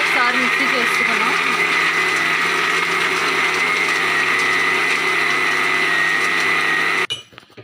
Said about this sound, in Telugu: ఐస్ క్యూబ్స్ వేసుకొని పంచదార ఇవన్నీ కూడా బాగా మిక్స్ అవ్వాలి కదా. దీన్ని కూడా ఒకసారి మిక్సీ చేసుకున్నాం